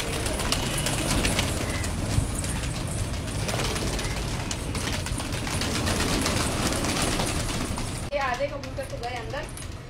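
Pigeons coo in soft, throaty warbles amid a constant noisy background of rattling and clatter, with the cooing growing clearer toward the end.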